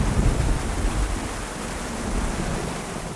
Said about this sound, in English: The pounding rain and the distant thunderstorms in a tropical environment, strangely beautiful.